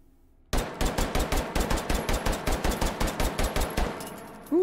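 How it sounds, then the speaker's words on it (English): A Glock 19 pistol fitted with a compensator fires in the virtual-reality game H3VR, with about twenty sharp, loud shots in a fast, even rhythm and then silence. "Let's do a recoil test with the G19 with the compensator."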